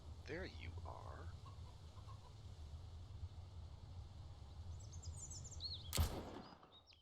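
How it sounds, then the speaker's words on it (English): A chicken clucks in the Mist Survival video game, a few short faint clucks early on over a low ambient hum, followed by a sharp loud sound near the end. "So I keep hearing a chicken running around."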